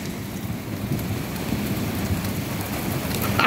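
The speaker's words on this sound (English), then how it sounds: "It's pouring down rain." Heavy rain pours down in a thunderstorm while the sun shines through, a dense, steady roar of drops that stays loud and close and swells slightly toward the end, with no talking.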